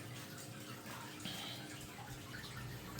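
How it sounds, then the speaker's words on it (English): Water draining out of a home aquarium tank during cleaning, a steady soft watery rush with faint trickling throughout, fairly quiet and continuous, ending in a brief splash. "I'm going to clean this filter and drain some of this water"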